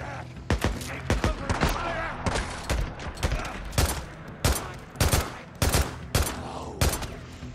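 Gunfire in the video game Days Gone, a series of sharp, loud shots in irregular bursts and single cracks that come in quick succession over a rumbling game background.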